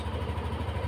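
A Yamaha NMAX scooter engine idling after starting, a quiet, steady low rumble with an even pulsing rhythm, heard faintly and alone.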